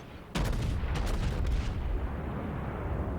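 Battleship main battery guns fire in World of Warships aboard the Scharnhorst, a sudden heavy boom followed by a broad rumbling roar that fades slowly, loud and close with no voices.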